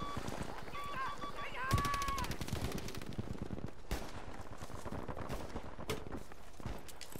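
Scattered gunfire cracks in a Battlefield V battle, with sharp shots and bursts spread through the clip. Several players talk over the shooting.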